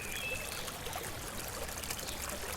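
Water flowing steadily into a backyard swimming pool built from PVC pipes, a faint, continuous trickling stream with no voices.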